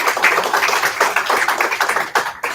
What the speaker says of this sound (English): so that's a big round of applause for everyone that's here.